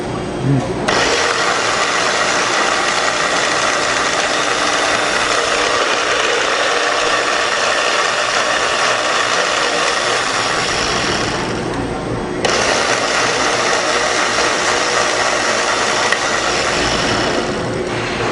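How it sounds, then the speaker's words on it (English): Electric blender blending salsa with garlic, its loud whirring run going for about eleven seconds, stopping briefly, then starting again for several more seconds, with no lid on the jar. "we've lost our top to the blender, so we're going to improvise here and use a little juice cup"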